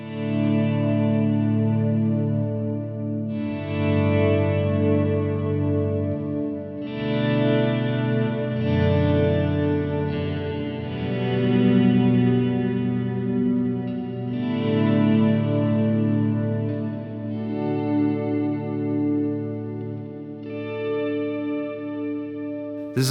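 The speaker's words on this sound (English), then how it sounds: "use a reverb with a long trail and a high mix." Sustained electric guitar chords swell in and hang in a long, washy reverb tail, with a chorused, slightly distorted shimmer that never fully decays between phrases.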